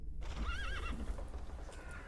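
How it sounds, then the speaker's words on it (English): Horse in the video game The Thaumaturge gives a clear, wavering whinny close by, set against a steady low rumble and faint hoof sounds, with no speech. "I meant to take the horse out for a ride, so get on"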